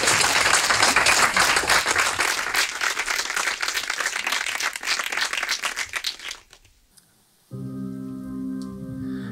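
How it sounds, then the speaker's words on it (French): A live radio studio audience bursts into loud, sustained clapping for a singer, dense and close for about six seconds before dying away, then a held musical chord begins. "Applaudissez-le!"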